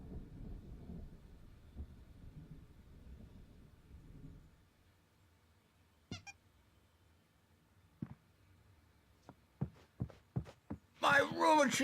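A thunderstorm rumbles low and distant in Alan Wake at first, then gives way to quiet and a run of sharp, separate cracks and thumps before a voice breaks in at the end.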